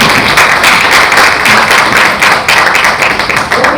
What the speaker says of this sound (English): Can we applaud Assistant Professor Electrical again?